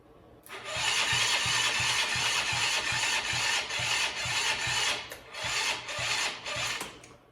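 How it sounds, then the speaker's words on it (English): A Polaris Outlaw 50cc four-stroke quad cranks on a weak battery, its starter grinding in a slow, labored rhythm for about seven seconds without firing. The sound is close and loud, with no voice over it. "we are without enough battery cranking power to turn it over fast enough to get it to fire"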